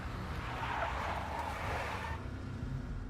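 A big black Mercedes in the video game Max Payne roars with a loud engine and a squealing, skidding tire screech that swells and then cuts off abruptly.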